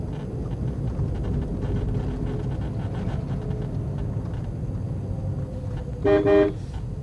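A single short car horn honk sounds near the end of a driving lesson, over a continuous low rumble of road and engine noise.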